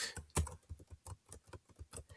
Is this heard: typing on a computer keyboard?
yes